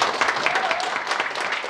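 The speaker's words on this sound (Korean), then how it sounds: "김진태 의원님을 힘찬 박수로 맞아주시기 바랍니다" Short, steady burst of audience clapping at a National Assembly debate forum as the lawmaker hosting it is welcomed, evenly spread and moderately loud throughout the brief moment.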